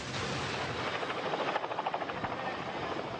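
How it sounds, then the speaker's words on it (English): Helicopter gunships in battle during the Grenada invasion, a dense continuous rotor roar with rapid thudding pulses, loud and unbroken throughout. "United States paratroopers have invaded Grenada with helicopter gunships"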